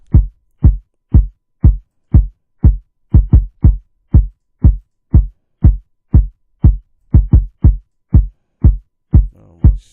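A deep kick drum from a Ghanaian/Nigerian highlife beat thumps alone in a steady pattern, about two hits per second with occasional quick doubles, loud, punchy and close.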